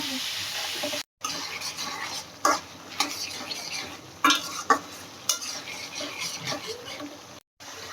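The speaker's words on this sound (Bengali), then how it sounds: "আলুগুলো ভালোভাবে কষতে হবে মশলার সাথে" Potatoes stir-fried with spices in a pan for a home-cooked fish curry, with a constant soft sizzle broken by repeated scraping and clinking of a spoon against the pan.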